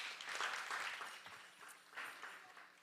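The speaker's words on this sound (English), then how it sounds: "please give her a big round of applause" Applause from a temple audience for Mother Alwani, a soft, steady patter of many hands heard from a distance, rising and falling briefly without any voices.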